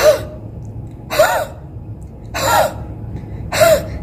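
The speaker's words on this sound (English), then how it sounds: "So next exercise is huffing." Four forceful huffs, breathy exhalations from an airway-clearance breathing exercise for clearing lung secretions, each about a third of a second long and spaced roughly every 1.2 seconds, close and clear over quiet room tone.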